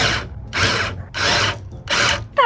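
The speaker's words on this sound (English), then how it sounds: "That was also the sound of wood splitting." A power driver drives a screw into wood that splits, four loud buzzing bursts separated by short pauses, heard close and alone.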